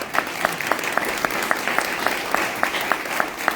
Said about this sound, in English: So a big round of applause for those candidates.